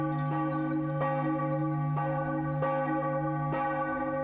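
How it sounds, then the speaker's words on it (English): A church bell in the video game The Case of the Golden Idol tolls repeatedly at a slow, even pace, each strike ringing on with a sustained, resonant hum between hits. "There's a church bell"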